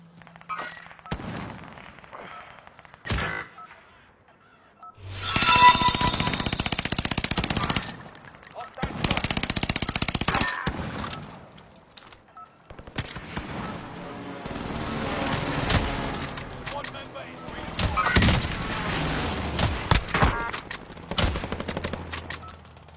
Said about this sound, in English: He's shooting off.